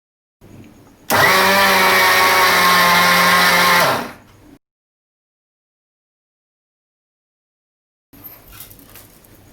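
An ELGI Ultra Stealth 750W mixer grinder grinds sesame seeds in its small 0.5 liter jar, a single loud, steady whirring burst of about three seconds that then cuts off, followed by quiet and faint handling noise.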